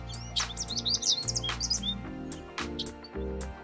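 Birds chirp in quick, high, repeated tweets nesting in tree branches, layered over steady background music in a children's story setting.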